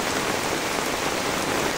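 Heavy rain pours down steadily over a flooded courtyard in Kaharol, Dinajpur, a dense, even hiss of drops on surfaces close by, with no voices.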